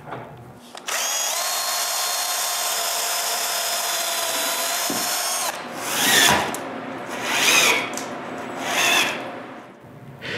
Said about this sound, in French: je dois y visser la vis en place